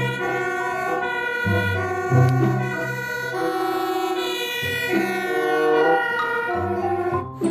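A toy fire truck siren wails continuously in a looping electronic tone, loud and close, with no talking.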